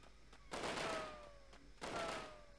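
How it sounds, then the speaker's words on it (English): Gunfire in the video game Delta Force: two heavy, booming bursts of shots about a second apart, loud and near, each trailing off into a rumbling tail. "I can hear some people firing shots at me"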